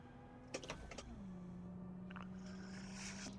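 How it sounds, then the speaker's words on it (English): A naturally aspirated V6 car engine in the BeamNG driving game hums as a steady low drone, dropping slightly in pitch partway through, with a short clatter of clicks near the start. "Sounds like a V6."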